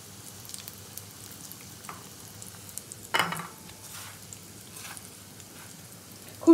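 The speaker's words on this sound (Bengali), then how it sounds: "এবার এইগুলোকে আমি আগে ভেজে তুলে নেবো।" Fish chops (macher chop) frying in a pan as a snack, giving a soft steady sizzle with occasional pops and a brief clatter, with no talking.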